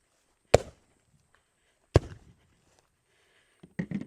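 Canik SFX Rival S 9mm pistol firing: two sharp, loud shots spaced about a second and a half apart, then quieter clatter and handling noise.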